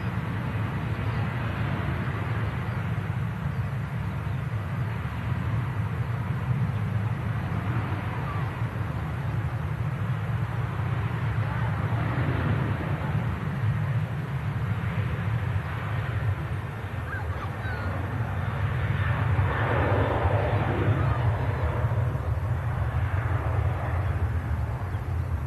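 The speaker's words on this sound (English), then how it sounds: "And now we have this flight to Hurghada on the takeoff roll." A passenger jet on its takeoff roll for Hurghada at Manchester Airport: a steady, far-off engine roar that holds for the whole stretch and swells slightly toward the end, with no talking.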